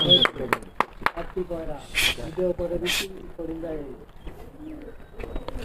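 Racing pigeons from a home loft lifting off for a pigeon tournament, with soft repeated cooing and sharp wing-flap bursts near the microphone while people talk throughout.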